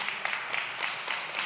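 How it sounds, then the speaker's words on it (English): Brief applause from a church congregation during a sermon, a short burst of clapping that stays fairly steady and moderately loud over a second and a half, with no voices over it. "Well, you're clapping,"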